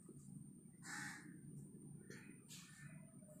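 A crow caws in two short bursts, a faint harsh call heard outdoors over low background rumble.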